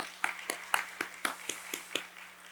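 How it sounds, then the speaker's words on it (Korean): Church congregation applauding during a Sunday service, a faint, sparse round of claps with about eight distinct hand claps spaced roughly a quarter-second apart, heard at a distance over a low steady hum. "하나님께 영광의 박수를 또 올려드립니다"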